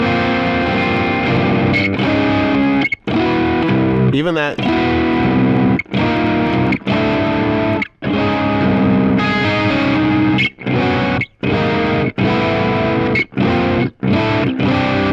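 Electric guitar chords played through distortion on an Axe-Fx III, loud and sustained with short gaps between strummed changes and a brief spoken phrase partway through.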